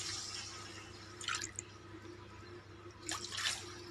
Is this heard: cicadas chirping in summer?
no